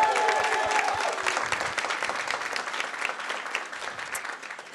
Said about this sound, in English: give us a big round of applause for the class of